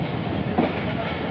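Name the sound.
train at a railway station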